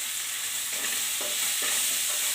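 Tomatoes and chili powder sizzle steadily in oil in a pan on a slow flame, with soft scraping stirs breaking through the hiss, while cooking a Karnataka-style bendekai (okra) palya.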